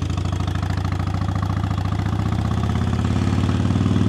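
A motorcycle engine idles before a ride with a steady, close, pulsing low rumble and a slight rise in throttle toward the end; no one speaks.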